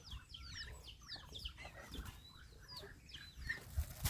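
Several chickens clucking and chirping in quick, overlapping calls, fairly close, with soft rustling and shuffling underneath and no talking.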